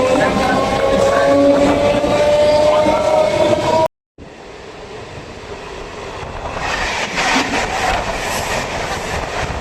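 Diamond Harbour local train leaving Dakshin Durgapur station, a loud rumble with whining tones and wheel squeal, a brief silent break, then clattering rolling noise building again as it gathers speed.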